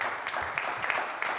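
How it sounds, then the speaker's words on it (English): A seminar audience claps for the museum team, a short, close burst of applause with a few sharper individual claps standing out. "I would like to ask a big round of applause for them."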